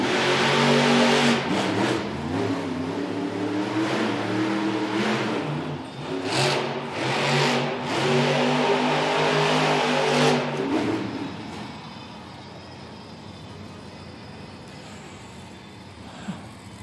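El Toro Loco's monster truck engine roars and revs hard at a Monster Jam arena event in Grand Rapids, surging loudly for about ten seconds before fading away into quieter arena ambience.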